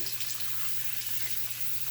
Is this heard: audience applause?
no